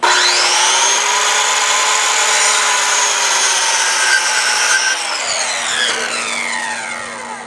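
A power saw cuts wood for a fence, a loud sustained whine that holds steady and then drops in pitch as the cut finishes, with no talking.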